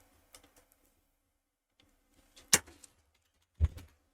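Someone types code on a computer keyboard, producing a few soft, sparse key taps and then two louder, heavier keystrokes. The sound is quiet and close, and no one speaks.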